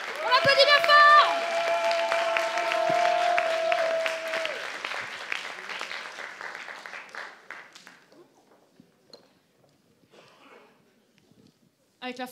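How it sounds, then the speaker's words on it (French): Applause from an audience at a cosplay contest, loud at first over sustained musical tones, then thinning and fading to near silence while a voice talks. "On applaudit bien fort."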